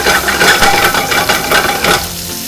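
Loud, close stirring and scraping in a pan over a busy crackle of frying octopus adobo, stopping abruptly near the end.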